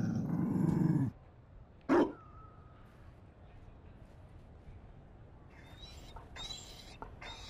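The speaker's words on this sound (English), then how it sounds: "You found a dog?" Mabari war dog from Dragon Age: Inquisition, giving a loud low growl for about a second, then one sharp bark, followed by quiet ambient background.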